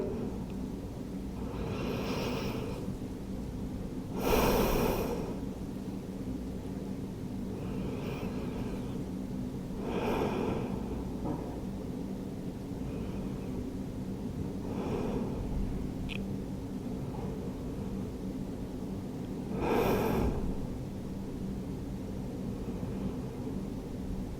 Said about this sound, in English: And just take a few deep breaths here.